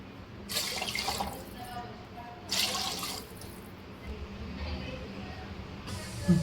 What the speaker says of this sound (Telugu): ఇట్లా వాటర్ పోసుకున్న తర్వాత